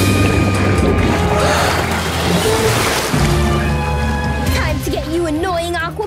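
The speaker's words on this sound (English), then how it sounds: "Bubble launcher." A cartoon bubble launcher fires with a dense, loud whooshing rush and watery burbles, ending in wobbling, bubbly warbles.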